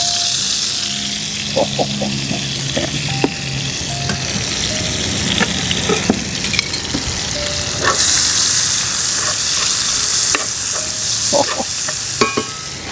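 Onions sizzle steadily in a hot pan, with scattered clinks and scraping of a utensil stirring them close up.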